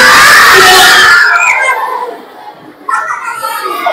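Several children shout and scream together at close range, a loud burst that fades to quieter chatter and then picks up again with more voices.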